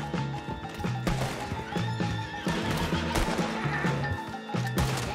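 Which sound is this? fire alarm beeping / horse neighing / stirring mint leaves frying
horse neighing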